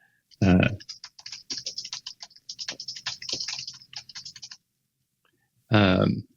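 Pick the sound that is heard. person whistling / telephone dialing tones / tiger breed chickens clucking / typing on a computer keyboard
typing on a computer keyboard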